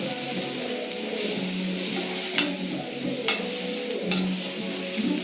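Egg palya cooking in a pan, a soft continuous sizzle with occasional light clicks of a spatula against the metal.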